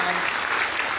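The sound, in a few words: audience applause for a comedian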